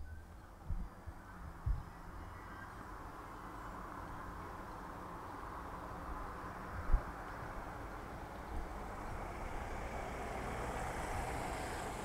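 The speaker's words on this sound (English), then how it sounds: "So here we have our Ford Ranger. So a heavy car, 4x4, and this is a 10 miles an hour test." A heavy Ford Ranger 4x4 with a 2-litre diesel engine drives past at 10 mph, a low rumbling engine and tyre noise that slowly swells as it approaches, with a few faint knocks early on.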